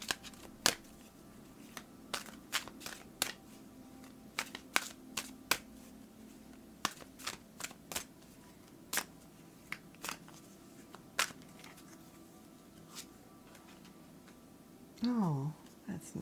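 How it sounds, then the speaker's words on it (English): Oracle cards are shuffled and pulled by hand as a string of sharp, close card flicks and snaps spread irregularly across the stretch, with a brief rustle of handling near the end and no speech. "Let's pull your oracle card here"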